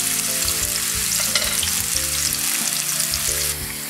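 Chopped onion and garlic sauté in a pan with a loud, continuous sizzle and bursts of stirring scrapes, close up and without speech.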